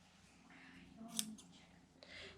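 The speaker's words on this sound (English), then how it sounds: "take some scissors and cut these corners" Scissors make a single quick snip across a sewn fabric corner, a brief close click standing alone over a faint room hush.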